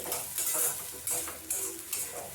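Potatoes frying in a pan for Maggi noodles, soft sizzle broken by several rhythmic stirring scrapes about every half second, quiet and close, no speech.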